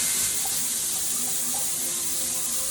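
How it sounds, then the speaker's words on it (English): A tap runs into a sink during an at-home facial cleanse, giving a steady, close hiss of flowing water that continues evenly without pause. "So I'm going to turn on the water here."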